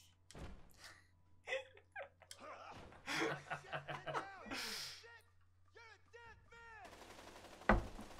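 Gunfire rings out in the video game A Way Out, with sharp shot bursts among players' talk, laughter and gasps, mixed with game sounds at moderate level.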